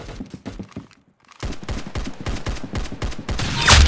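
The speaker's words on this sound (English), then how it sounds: "Very good shooting." Rapid, loud automatic gunfire in the Roblox shooter Arsenal rattles in steady bursts, pausing briefly before resuming in a fast, even rhythm that builds to a heavier blast at the end.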